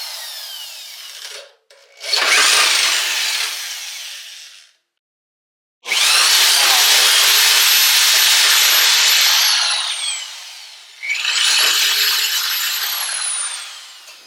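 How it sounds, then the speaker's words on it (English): A drill bit boring out a worn, sloppy drain plug hole in a small engine crankcase, heard as three loud, harsh grinding bursts separated by short pauses, close up with no talking. "Time to drill out that sloppy drain plug hole."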